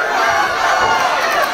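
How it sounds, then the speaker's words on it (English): Crowd at an amateur fight night roaring and cheering, a dense, steady wall of shouting voices filling the space without pause. "the crowd is going nuts here."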